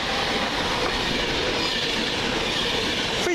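A train running from Edinburgh Waverley to London Euston rumbles past close by, a dense continuous roar of wheels on rails with faint squealing, loud throughout and with no voices.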